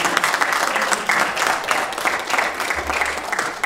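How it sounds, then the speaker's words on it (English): Audience applause for the speakers at the close of an integrated weed management talk, a steady, dense clapping from a full room that holds at an even level throughout. "Big round of applause for all the speakers."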